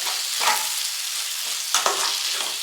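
Paneer fried rice with beetroot sizzles steadily in a hot pan, loud and close, as a spatula scrapes and stirs in a few bursts over a constant frying hiss, no voices.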